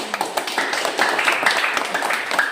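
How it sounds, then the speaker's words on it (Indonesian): An audience at a children's choir event gives a brief, moderate round of clapping, a scattered patter of hand claps lasting a couple of seconds. "tepuk tangan dulu dong"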